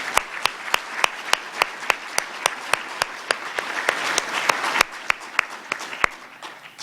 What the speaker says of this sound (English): Can we have a round of applause for Greg and Susan?